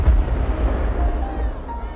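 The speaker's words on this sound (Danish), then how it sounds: "Pludselig lyder en stor eksplosion i det fjerne." A deep, booming explosion rumbles in the distance, heavy and low, fading away over two seconds as a dramatic sound effect in a war story.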